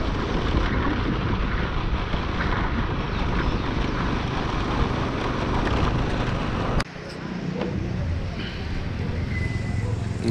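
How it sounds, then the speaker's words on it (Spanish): Motorcycle ride while carrying an alternator: continuous engine drone with heavy wind rush, then a sudden drop in level near the end as the rumble settles into quieter road noise. "Vamos en la motocicleta"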